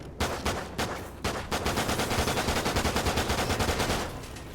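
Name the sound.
gunfire in Call of Duty video game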